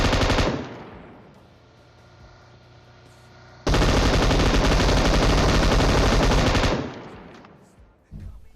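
An M249 machine gun fires in PUBG: a loud, close, sustained automatic burst of about three seconds follows a fading earlier burst, then a short final shot near the end.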